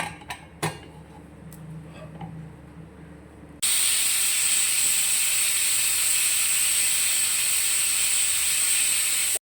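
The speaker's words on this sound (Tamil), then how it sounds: "10 விசில் வந்துச்சு, அடுப்பு ஆஃப் பண்ணுங்க." Pressure cooker on a stove cooking mutton bone soup releases a loud, steady high-pitched steam whistle and hiss that cuts in abruptly and holds, after a few clinks of utensils against the pot.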